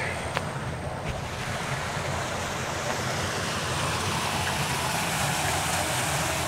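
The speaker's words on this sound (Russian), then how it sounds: "Вот похожий водопад." A waterfall near Gardabani: a dense, continuous rushing roar of falling water, steady and fairly loud, with no talk.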